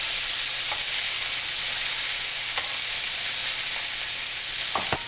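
Salmon fillets fry in a hot pan over high heat, giving a dense, even sizzle that runs unbroken, with a few faint clicks and scrapes from the pan near the end.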